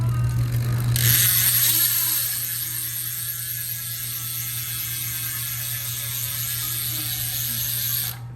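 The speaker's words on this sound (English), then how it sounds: "Here comes the free body sound test now." A bicycle freehub ratchet on a DT Swiss 240 hub buzzes with rapid clicking as the wheel spins, close and steady, slowly easing off, over a low electrical hum.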